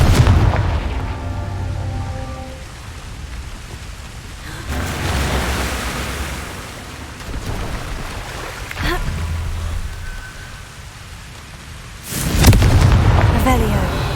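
Confringo blasting spells go off in the Hogwarts Legacy video game, giving several deep booming bursts over a rumbling, noisy background. The strongest blast lands near the end.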